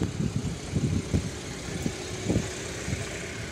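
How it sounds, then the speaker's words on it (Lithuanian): The radiator fan of a BMW E93 335i runs loudly with a steady broadband whoosh, and soft low engine thumps pulse irregularly beneath it. "Ventiliatorius dar biškai garsiai kažkaip dirba."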